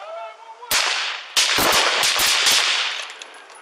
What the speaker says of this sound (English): Shots fired. We got shots fired.